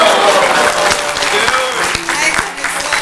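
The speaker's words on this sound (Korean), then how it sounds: "우리 신편아 박수." Crowd applause at a Korean church gathering, dense steady clapping from many hands with voices mixed underneath, loud and close.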